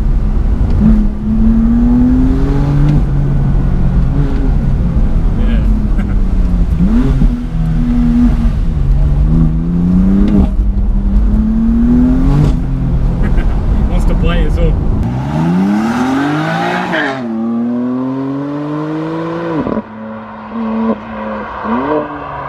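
BMW M4 CS sports car driving on narrow roads, engine loud and close with repeated rising revs and gear shifts, then a sharper surge of acceleration; people talk over the engine throughout.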